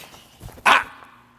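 One sharp, close dog bark at a dog training workshop in Omaha, Nebraska, a single loud burst after a quiet moment, with faint low rustling around it.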